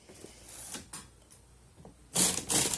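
A knitting machine carriage runs across a row of brown yarn for a fair isle pattern, giving faint clicks and then a loud sliding rush near the end.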